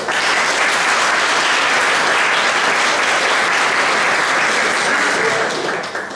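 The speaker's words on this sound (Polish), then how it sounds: "Wielkie brawa dla gości." A crowd applauds loudly and steadily, continuous clapping that fades slightly at the end.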